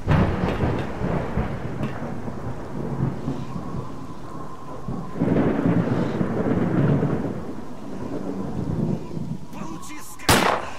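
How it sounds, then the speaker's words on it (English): Rolling thunder over steady rain in S.T.A.L.K.E.R. Lost Alpha, long low rumbles swelling and fading across the scene with a sharp crack near the end, loud and close with no talk. "Oh, and thunder! Right on cue."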